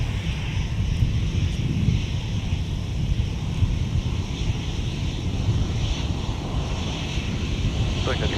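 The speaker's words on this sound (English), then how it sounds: "And Delta 160 Heavy is now on the roll" A Delta heavy jet on its takeoff roll at Minneapolis–St. Paul airport, heard as a steady, distant broadband engine roar with wind-like rushing that holds at a constant level throughout.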